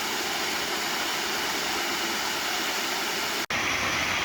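B. Reynolds Falls, a waterfall on a Pennsylvania trail, pours in a steady, dense broadband rush, loud and close, unbroken but for a brief dropout near the end, with no one speaking.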